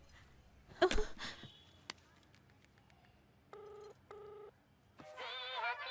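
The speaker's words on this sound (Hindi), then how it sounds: "किसका फोन है?" A mobile phone rings in a domestic scene from a dubbed South Indian comedy film, sounding two short bursts of repeated electronic tones and then a warbling ringtone, following a loud thump and under faint background noise.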